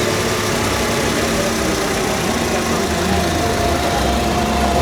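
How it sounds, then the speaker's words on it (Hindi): A 2023 Tata Tiago XT BS6 Phase 2 petrol engine idles steadily for about five seconds, giving a constant, even hum with no revving, heard from inside the car. "तो अभी इसको ने सीधा स्टार्ट करते हैं और इसकी भाई आपको वाइब्रेशंस और इंजन नॉइस सुनाता हूँ कितनी आती है इसके अंदर में"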